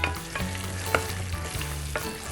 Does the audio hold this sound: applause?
no